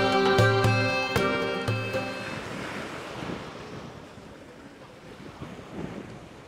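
Surf rolls in a continuous broad wash with wind buffeting the microphone at Jumeirah public beach in Dubai at sunset, following a brief ringing musical tone at the start.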